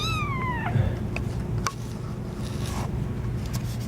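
A pet cat gives one clear, rising-then-falling meow near the start, close and fairly loud, followed by faint rustling and scraping in a quiet room.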